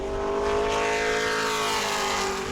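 A Pro Late Model race car roars past at close range during qualifying at New Smyrna, its loud engine tone sliding downward as it passes, with no voices.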